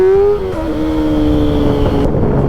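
A Kawasaki ZX-6R sport motorcycle being ridden on a road, its loud, close engine holding a steady high drone that dips slightly as the throttle eases, with no one talking.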